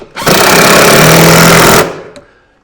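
A power driver runs a 1¼-inch grabber screw into a cabinet end panel in one loud, close whir that lasts about one and a half seconds, then stops and fades.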